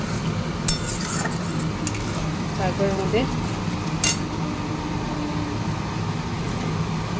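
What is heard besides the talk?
stirring and frying spice paste in a pan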